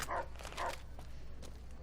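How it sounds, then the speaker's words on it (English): Rex the dog barks in Fallout New Vegas, two short barks early in the clip over a low, steady game background hum, moderately loud and close. "He's barking at birds, probably."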